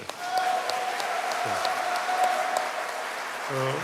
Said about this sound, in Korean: 미라클 보이스 앙상블 다시 한 번 더 환영의 박수를 부탁드리겠습니다